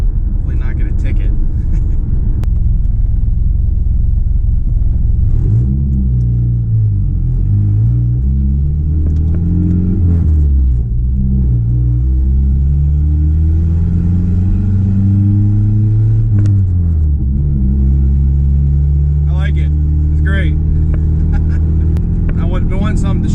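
A 25-year-old project truck on its first drive in six years, with a loud, close engine rumble that rises and falls through gear changes, with a broken mirror and cracked windshield, and someone speaking over the engine noise.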